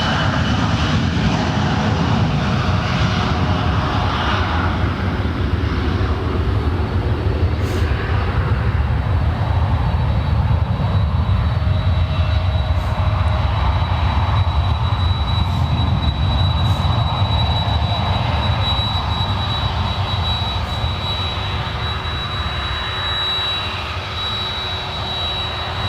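A Jazz CRJ 900 jet airliner at San Francisco International Airport gives off a loud, continuous engine roar with a deep rumble and a steady high whine, holding strong for nearly half a minute with no voices.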